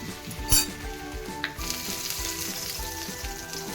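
Egg-dipped bread frying in a pan gives a steady close sizzle, with a sharp clatter early on and a brief clink midway, then an even hiss for the rest.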